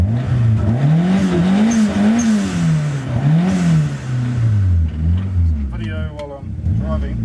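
A 1984 Toyota Starlet KP61 with a 4AGTE engine drives under load, its loud engine rising and falling through repeated revs with a steady drone throughout and a brief whine near the end.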